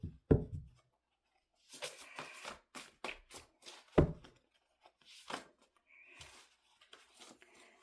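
Tarot cards are shuffled by hand in several separate bursts: quick riffling and sliding, soft taps and one sharp knock of the deck on a table, with quiet gaps in between.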